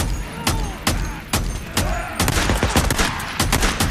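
Rapid gunfire in the Days Gone video game: a run of sharp, loud shots, spaced at first and then clustering into quick bursts, with a voice faintly in the background.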